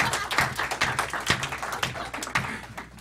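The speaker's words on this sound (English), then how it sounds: "You can clap." A small audience at a talk claps sparsely and quietly, with uneven individual claps landing one after another and no voices.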